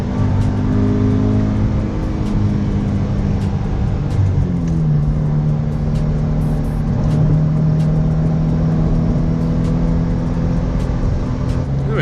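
A supercharged, boosted Scion FRS with a Rocket Bunny V1 body kit, rated at 260 horsepower, revs its engine up and down nearby, a loud, steady droning note that shifts in pitch partway through.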